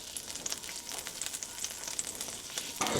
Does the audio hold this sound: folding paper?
no